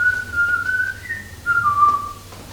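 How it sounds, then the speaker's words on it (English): A man on stage in a Little Dorrit drama production whistles a wavering musical tune, a single clear melodic line held and sliding between notes, close and alone over a low steady hum. "And he whistles that musical song."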